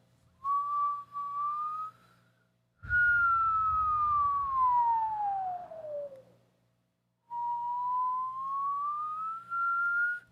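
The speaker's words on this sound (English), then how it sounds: "that whistling is just agitating me" A person whistles during a Tai Chi breathing exercise: three separate sustained tones, the long middle one sliding steadily downward, the others rising gently, clear and close with brief pauses between.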